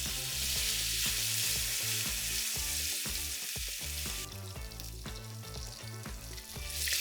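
Steak sears loudly in a hot cast iron pan, a dense steady sizzle and crackle, with a rhythmic series of low thumps and knocks from the pan running underneath throughout.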